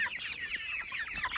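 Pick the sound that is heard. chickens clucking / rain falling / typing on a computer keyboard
chickens clucking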